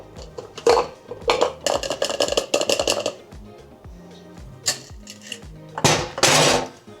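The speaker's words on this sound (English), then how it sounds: "Always make sure you fine strain these drinks." Espresso martini fine-strained from a frosty cocktail shaker, loud clattering metal and ice clinks in bursts, then a lull and a final rattling burst.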